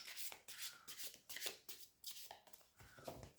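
Tarot cards being shuffled by hand in quick, close rustling bursts, one riffle after another with short pauses, heard alone with no talk.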